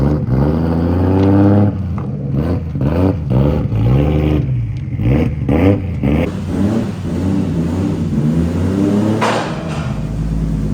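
A Toyota 1JZ-GTE VVTi with an upgraded Pulsar turbo revs hard on a dyno, its loud, rough exhaust note rising and stuttering through repeated pulses before settling into a steady high-rpm drone.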